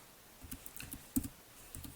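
Faint computer keyboard typing: a few scattered, irregular keystroke clicks, quiet and close, with no speech.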